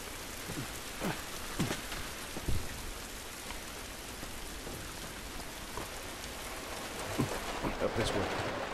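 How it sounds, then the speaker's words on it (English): Steady rain falls outdoors in The Last of Us Remastered, a constant hiss of drops on surfaces at moderate level, with a few louder spatters and thumps now and then. "It's raining."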